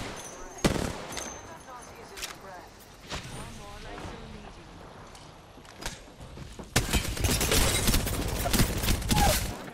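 A Devotion energy weapon firing in Apex Legends gameplay, with rapid automatic bursts that grow into a loud sustained stream of shots near the end, mixed with game effects and a player talking over it.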